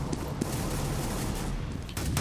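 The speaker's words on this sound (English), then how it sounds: "He goes under some gunfire there." Rapid bursts of gunfire crackle through a competitive Counter-Strike esports match, a dense rattling fusillade with sharp shots at the start and near the end.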